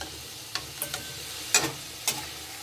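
Potato pieces fry in a small amount of oil in a kadhai, with quiet sizzling beneath a few sharp, scattered clicks and scrapes of stirring, close up and with no one talking.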